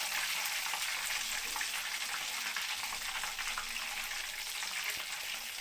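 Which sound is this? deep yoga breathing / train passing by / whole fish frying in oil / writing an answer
whole fish frying in oil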